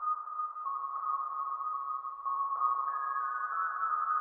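A synth sample from an Arcade preset in the Honey Bank library: steady, bright sustained tones that step between a few pitches, clean and alone, with no voices.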